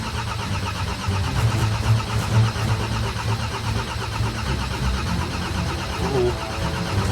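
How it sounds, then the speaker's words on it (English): A starter motor cranks a diesel motorcycle engine, a loud, continuous mechanical churning close by that runs steadily for several seconds without catching into a clear idle. "Right, here we go, let's crank it."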